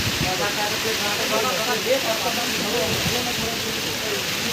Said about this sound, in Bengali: এদিকে বৃষ্টি পড়ছে